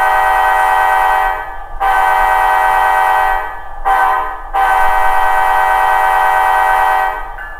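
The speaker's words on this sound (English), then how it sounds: "you hear that bell. And the bell timer will start the second that the air horn lets off." A model train's Blunami sound decoder plays a loud multi-chime air horn in several long blasts with brief gaps, close and dominant, with no talk.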